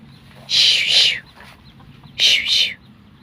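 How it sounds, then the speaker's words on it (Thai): Chickens at a neighbouring house cluck in two loud, close bursts, each a quick run of squawky clucks, separated by a short pause against a quiet background. "ไก่ข้างบ้านพี่น้อง"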